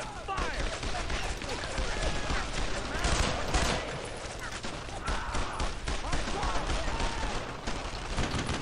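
Dense gunfire from the World War II video game Brothers in Arms: Road to Hill 30, rapid overlapping shots and bursts packed together throughout, loud and busy, with voices speaking over the battle.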